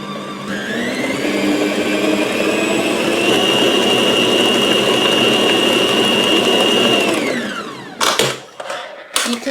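Electric mixer beating sponge cake batter of flour and eggs, a loud steady whirring drone held for about seven seconds before winding down, followed by a few clattering knocks against the bowl.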